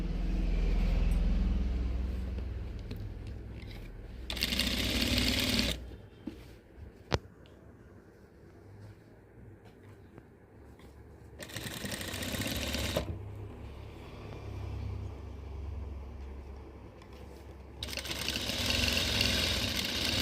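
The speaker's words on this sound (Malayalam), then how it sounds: "ഇതിങ്ങനെ വെച്ചിട്ട് നമ്മൾ ഒന്ന് പതിച്ചടിച്ച് കൊടുക്കും." A sewing machine stitching a nighty frock runs in three loud bursts of rapid whirring between quiet pauses, with small handling clicks in the gaps and no speech.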